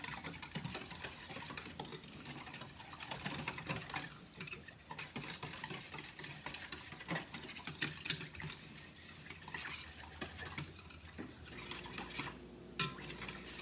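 Bread dough ingredients are mixed together in a bowl, giving a steady run of clinking, scraping and tapping as a utensil works against the bowl, fairly close, with no talking.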